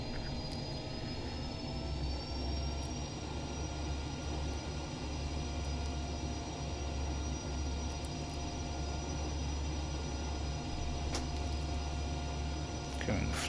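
Twin jet engines of a Rafale taxi toward the runway in Microsoft Flight Simulator, giving a steady, dense rumble with a high turbine whine that slowly climbs in pitch and continues throughout.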